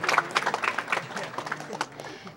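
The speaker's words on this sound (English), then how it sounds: "We're clapping for everyone here." Scattered audience clapping at a speedrunning charity event finale, uneven bursts of hands that thin out and fade over a couple of seconds, with a voice talking over it.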